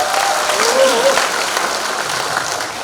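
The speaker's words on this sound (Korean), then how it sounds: "큰 박수로 맞으시기 바랍니다." A crowd of party members claps steadily at a political rally for a presidential election, even and sustained applause with a faint voice or two rising above it.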